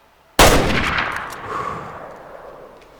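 A single loud hunting rifle shot in Way of the Hunter cracks sharply out of near silence, then rolls away in a long, fading echo over a couple of seconds.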